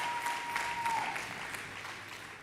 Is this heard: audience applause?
yes